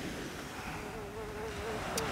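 A housefly buzzes close by in a thin, wavering drone that lasts the whole short moment, faint against a muffled indoor background on a film set.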